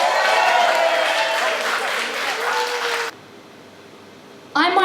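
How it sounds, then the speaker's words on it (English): A poetry event audience gives an enthusiastic round of applause with cheering for poet Tammie Le, loud for about three seconds before cutting off abruptly, with a voice starting just before the end. "Give a round of applause."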